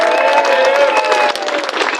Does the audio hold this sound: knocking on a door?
no